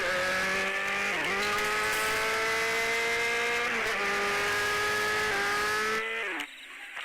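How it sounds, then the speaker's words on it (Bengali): A video game motorcycle engine drones and revs continuously, its pitch dipping briefly at several gear shifts before climbing again, then the engine sound drops away near the end. "আমি এখন মোটরসাইকেল নিয়ে একটু ঘুরোঘুরি করবো।"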